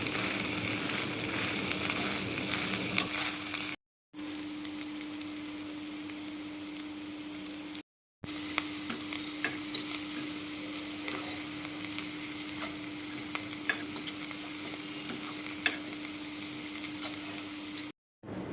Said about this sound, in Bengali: আর একটু মাখনে ভালো করে ভেজে নিলে তাহলে একটু টেস্টি হবে।